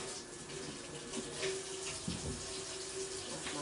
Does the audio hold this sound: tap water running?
yes